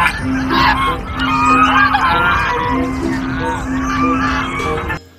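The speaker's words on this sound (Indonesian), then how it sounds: "Ada angsa teman-teman." A goose gives repeated loud honking calls close by, a series of harsh nasal honks in quick succession with brief gaps between them.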